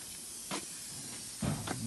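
Steady hiss of air escaping from a truck tire punctured by a screw, with two louder gushes breaking through the continuous background rush.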